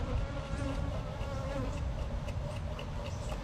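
Honey bees buzzing loudly inside a sugar shake jar, clustered and coated in sugar, a dense, steady close-up drone with no talk.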